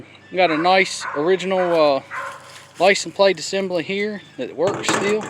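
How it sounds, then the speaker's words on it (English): A dog barks in the background of a home garage while someone talks at length about an original license plate assembly on a 1959 Chevrolet Biscayne, the barks faint and partly under his speech. "sorry my dog's barking"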